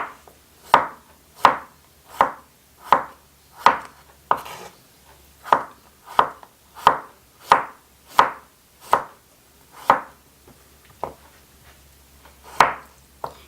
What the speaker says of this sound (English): And then you slice it into about half a cm thick